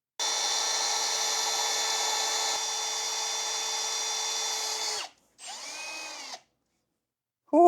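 A power drill drives into the plastic fender liner of a twin-charged solid-axle Toyota Tacoma, whining steadily for about five seconds, then stopping. A shorter burst of drilling follows after a brief pause, close and loud with no speech.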